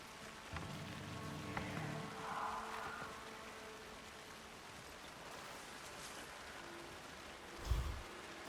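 Steady rain falls outdoors in the video game Alan Wake 2, a continuous soft hiss of drops on surfaces with a faint low thud near the end.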